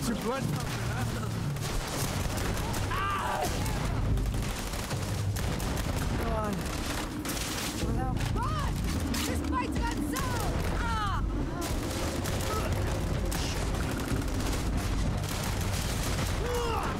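Heavy gunfire from a big gun in the Starfield video game, with dense bursts and booms running throughout over a busy mix of game sounds and voices.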